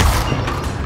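An Incendio fire spell is cast in Hogwarts Legacy, a short loud burst of whooshing flame with a dull low boom, close and brief.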